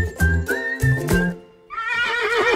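A Cob Normand draft mare neighs several times in quick succession, loud, close and shrill with a long, shaky whinny at the end.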